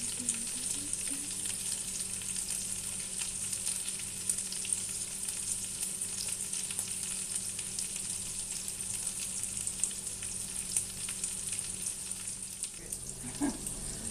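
Frikadeller, Danish meatballs, sizzle steadily in a frying pan, a constant close crackling hiss that runs unbroken with no voices.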